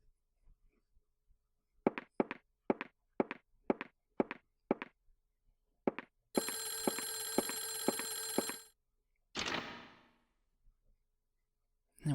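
A bell-type telephone in the Clock Tower video game rings in one long metallic burst lasting a couple of seconds, after a run of regular footsteps, then a shorter clanging hit follows, with nothing else underneath.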